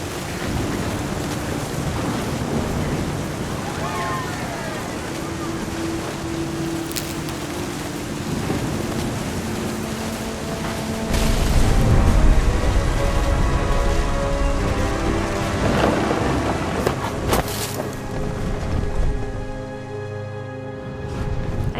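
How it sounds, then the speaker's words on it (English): Thunderstorm in the video game What Remains of Edith Finch: steady heavy rain hiss with deep rumbling thunder swelling midway, a few sharp cracks, and faint tonal game sounds underneath, with no speech. "The thunder sounded much too close and full of angry power."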